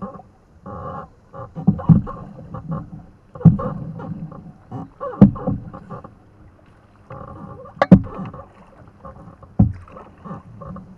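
A canoe paddled down the White River, with close, irregular paddle strokes and water splashes coming in uneven bursts against a quiet background.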